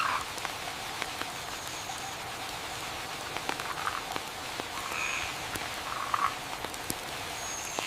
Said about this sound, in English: The rain steadily increases.